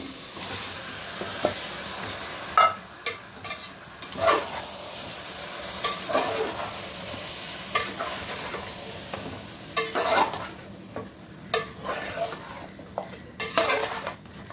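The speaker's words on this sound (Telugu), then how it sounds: "ఈలోపు మనం చికెన్ వేసుకుందాం. ఇందులో నాటుకోడి చికెన్." Country chicken pieces sizzle and fry in a hot pan, with repeated scraping stirs and clanks of a utensil against the metal over a steady hiss, close and fairly loud, no talking.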